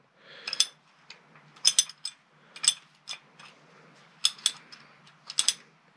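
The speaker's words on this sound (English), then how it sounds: "what I really thought was cool about this, along with the adjustable, was that it's actually a ratchet." An antique Richards Wilcox adjustable ratchet wrench from over a century ago clicks through several quick bursts of ratcheting, each a sharp rattle of metallic ticks with short pauses between, close and fairly quiet.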